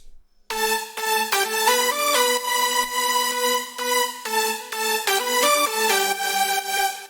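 Layered progressive house synth leads made in FL Studio, with EQ removing the bass frequencies, play a bright chord stab melody in steady rhythmic hits, loud and alone without voices.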